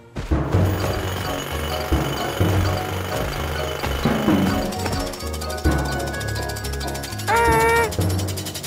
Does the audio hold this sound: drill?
yes